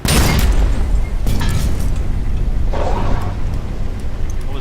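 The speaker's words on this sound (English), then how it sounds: "What was that noise? Torpedo." A torpedo hits in the submarine video game Wolfpack, bringing heavy booming rumbles. Low, loud blasts roll and fade, with a second and a third boom following over the first.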